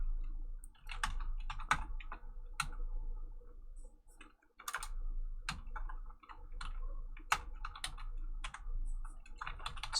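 Steady clicking of keys on a computer keyboard, quick irregular bursts of taps with brief pauses, close and fairly quiet, no voices.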